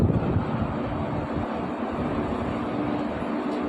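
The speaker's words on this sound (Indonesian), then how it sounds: "anginnya kencang" Strong wind buffeting the microphone outdoors during a holiday homecoming trip, a constant loud rushing roar with low rumbling gusts throughout, no voices.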